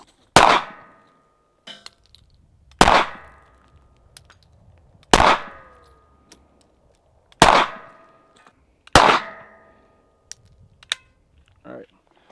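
Five sharp .380 pistol shots with defense ammunition, evenly spaced a couple of seconds apart, each loud crack ringing briefly, with faint clicks and small knocks between them.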